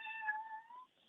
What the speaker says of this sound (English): I apologize, that is my cat.